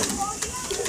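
Soft pigeon cooing with a few brief higher chirps, faint against a steady background hiss and murmur.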